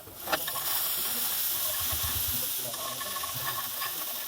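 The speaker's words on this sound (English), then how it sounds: "So we're gonna cook the onions and the garlic until they're nice and translucent" Onions and garlic sizzle in hot cooking oil, a steady close hiss and crackle with a few soft stirring clicks throughout.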